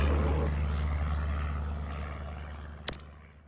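Big jet airliner rumbles down the runway on its takeoff roll in the Airport Madness game, a broad steady engine roar that slowly fades, then a brief sharp click near the end.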